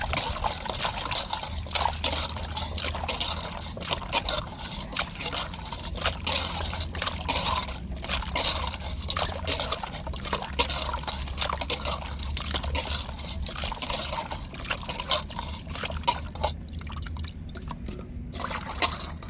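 Conch meat being rinsed and swished by hand in water, giving a continuous wet sloshing and trickling texture with small clinks throughout, close and steady, with no talk.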